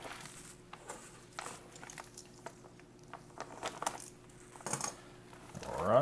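A U.S. military MRE ration pouch of shredded beef in barbecue sauce is cut open at close range. Sharp clicks and snips of plastic come in an irregular series, and a louder crinkle closes the sequence. No one speaks.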